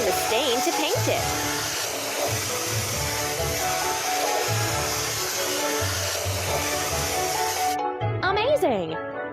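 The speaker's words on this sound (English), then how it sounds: "Let's drag the spray gun along the stain to paint it." Hissing spray gun painting over a stain on a ship in a kids' repair game, a steady loud spray running for about eight seconds over game music, then cutting off.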